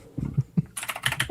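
Close computer keyboard typing: a few soft key taps followed by a quicker burst of sharper clicking keystrokes, heard alone without talk.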